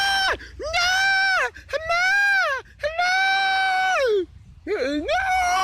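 A voice imitates screaming with long, loud, strained wails that rise and fall in four drawn-out bursts separated by short gaps, close and forceful.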